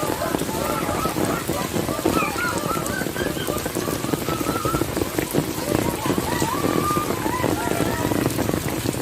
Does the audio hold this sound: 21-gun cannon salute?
no